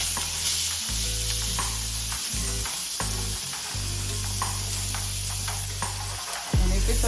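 Salmon pieces sizzling loudly in a hot pan just after being flipped, with a continuous close frying hiss, crackling pops and low hum running throughout, no voices.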